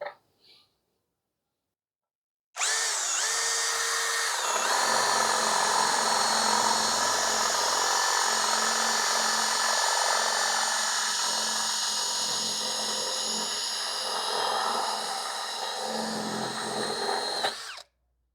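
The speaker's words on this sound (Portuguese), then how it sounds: "Vou passar aqui para a velocidade 2, que tem mais rotação, mas menos força, e vamos ver como é que vai ser o furo aqui agora." Tecepo 21V cordless drill bores a hole through wood about 21 mm thick at speed setting 2, higher rotation with less torque; a loud, steady whine starts abruptly after a short silence and runs continuously for roughly fifteen seconds before stopping.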